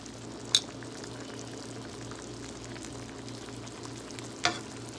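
Shrimp and glass noodles stirred in a hot pan, a steady soft sizzle and frying hiss with two brief sharp clinks of utensil against the pan.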